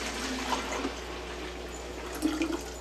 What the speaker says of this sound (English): So I'm going to take my first phytoplankton and I'm just going to pour it into here.